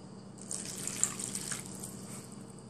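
Water poured into a pastry dough mixture, a faint, soft trickle and splash lasting a couple of seconds, close and quiet with no talking.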